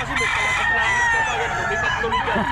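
A rooster crows and clucks close by, a strained, drawn-out call over a busy background of faint voices and noise.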